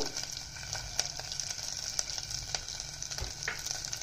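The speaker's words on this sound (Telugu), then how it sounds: "జీడిపప్పు, కొబ్బరి ముక్కల్ని బాగా ఎర్రగా వేపుకుందామండి, గోల్డెన్ కలర్ వచ్చేదాకా." Cashews and coconut pieces frying in hot oil until golden, a steady close sizzle with scattered pops and crackles and an occasional stir, no voices.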